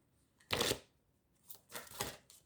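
Tarot cards shuffled and drawn by hand, two separate bursts of quiet riffling and rustling with a soft shuffle in between, close and alone without talk.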